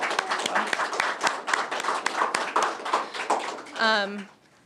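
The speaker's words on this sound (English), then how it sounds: "So can we have a round of applause just for the museum?" Audience at the Oshkosh Public Museum centennial celebration clapping in a steady round of applause with some crowd voices mixed in, ending in a brief tonal sound before going quiet.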